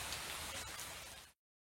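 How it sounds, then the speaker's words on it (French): Steady rain falls in an even, hissing wash for over a second, then cuts off abruptly into silence. "Il pleut encore!"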